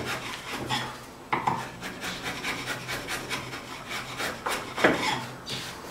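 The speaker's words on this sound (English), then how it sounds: "you can just run the side of your chisel right along the side there. And just clean that out." A chisel scrapes along the sides of a wooden dado joint in cabinet joinery, a close series of short, dry rasping strokes of varying loudness with brief pauses between them.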